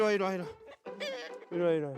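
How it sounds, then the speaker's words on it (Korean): Several breeds of chickens, including native Korean hens and white silkies, cluck loudly and closely in three drawn-out bursts inside a coop at a rural home in Hongcheon. "토종닭, 백봉, 청개 등 다양한 종류의 닭들이 건강하게 자라고 있다고 하네요."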